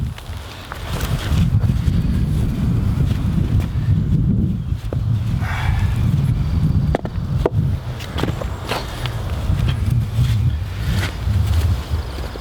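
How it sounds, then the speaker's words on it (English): Steady, loud wind buffets the microphone throughout in an outdoor vegetable garden, a constant low roar with a few scattered knocks and rustles, no voices. "It always seems to be inevitably get windy when I go to do this."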